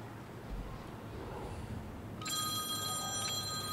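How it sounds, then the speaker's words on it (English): An old-fashioned telephone bell ringtone starts partway through, a bright sustained metallic ringing that rises over a murmuring room background and continues loudly to the end. "Who has an old timey phone?"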